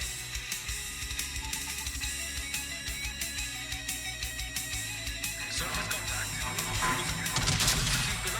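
Rapid, evenly spaced bursts of the battleship Thunderer's naval gunfire in a video game thud repeatedly over a droning mechanical background, growing denser toward the end.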